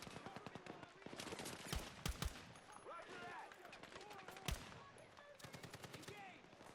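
Gunfire rattles through a Battlefield 6 campaign firefight, with rapid automatic bursts, heavy single booms and overlapping shots at close to mid distance under a busy battle mix.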